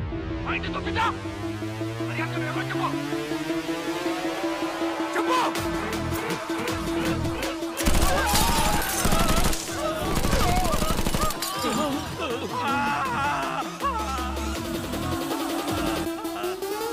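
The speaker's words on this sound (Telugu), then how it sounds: "ఇద్దరిని షూట్ చేశాను." Sustained gunfire in a movie bank robbery scene, with bursts of rapid shots and loud blasts running through the whole passage over a tense dramatic score, and a few voices briefly audible beneath.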